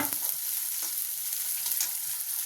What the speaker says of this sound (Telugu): ఉల్లిపాయలు వేసుకుందాం ఉల్లిపాయలు ఎర్రగా ఫ్రై చేసుకోవాలి